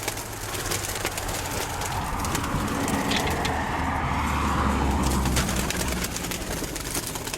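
Pigeons making their first outing outdoors, soft repeated cooing mixed with other bird calls over a steady outdoor background hum, no talking.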